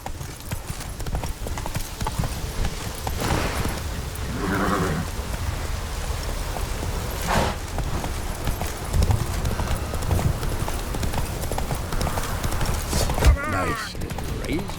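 Roach the horse gallops in The Witcher 3, a fast steady clip-clop of hooves running throughout amid rain-like hiss, with a brief whinny and a voice talking over it.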